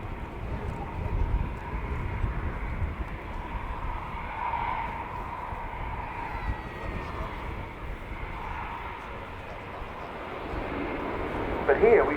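An Airbus A400M Atlas military transport flying a display at an air show, its turboprop engines giving a broad, steady roar with shifting tones that swells slightly near the end.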